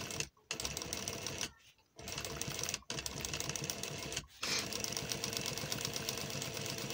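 A sewing machine stitches cloth in steady, fast bursts that stop briefly four times before running on again, close and fairly loud with no talking.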